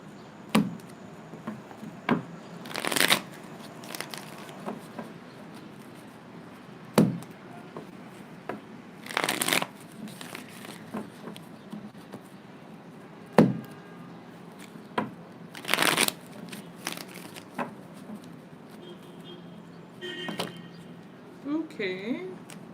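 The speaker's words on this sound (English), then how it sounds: "More shuffles." Tarot cards being shuffled and handled in repeated short bursts of riffling and slapping, with sharp taps and knocks between them, close and fairly loud, with quiet pauses between.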